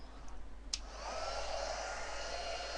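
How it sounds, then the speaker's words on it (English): A heat gun blows hot air, a steady close whooshing roar that swells after a brief softer start and holds evenly, with a small tap near the beginning. "Get your heat gun."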